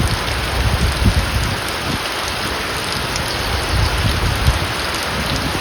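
Heavy monsoon rain pours steadily and loudly on a camp shelter, a dense continuous hiss with no voices over it.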